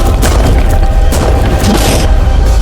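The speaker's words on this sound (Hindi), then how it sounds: "टैंक्स की रैपिड फायर से मजा आ रहा है।" Rapid tank cannon fire booms loud and continuous, heavy thumping blasts following one another over a dense rumbling roar with no pause.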